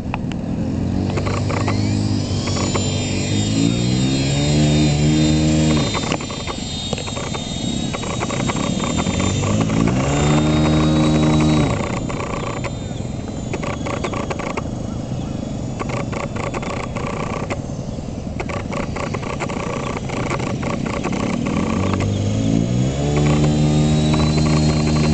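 Engine of a radio-controlled helicopter with plastic blades in flight outdoors, a loud, continuous high whine that rises and falls in pitch with throttle changes throughout, with some faint talk underneath.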